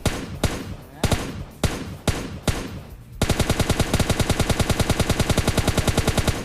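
A DP light machine gun fires in PUBG, first as a few spaced single shots, then a fast, steady stream of loud automatic fire close by, with no talk over it.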